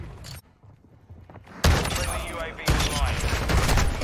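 Shotgun blasts in a video game, heavy bursts of gunfire that start abruptly and stay loud, with a second blast mixed into game noise and voices talking over it.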